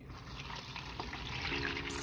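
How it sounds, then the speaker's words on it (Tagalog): Water poured into the reservoir in the bottom of a plant box, a steady faint trickling and splashing that runs continuously throughout. "Ang ilalim niya, reservoir. Punuin natin ng tubig."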